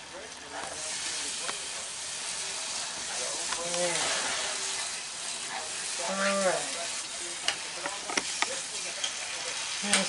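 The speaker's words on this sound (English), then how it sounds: "Or can you hear it sizzling?" Hamburger Helper sizzling and bubbling in a pan, a continuous close hiss with crackles and pops, while a person speaks a few words over it.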